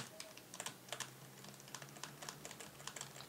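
Rapid, forceful typing on a computer keyboard during a Re-Volt 1v1 racing match, with a dense stream of sharp key clacks, close and fairly loud, over a low background hum.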